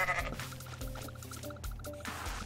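A goat bleats in the video game Goat Simulator, several nasal bleats rising over a busy bed of game sound and music, close and fairly clear.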